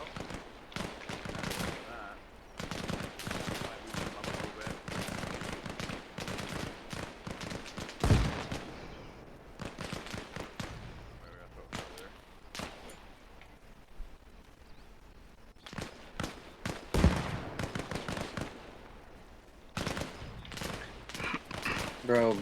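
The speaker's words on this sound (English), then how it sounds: "Shooting now." Rapid bursts of automatic gunfire from AI soldiers in the video game Arma Reforger, sustained volleys with loud spikes throughout, dense and overlapping, mixed with occasional voices.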